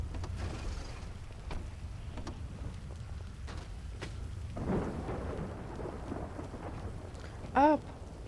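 Steady rain pours continuously in a video game while low rumbles of thunder roll underneath, with a brief sharp tonal blip near the end.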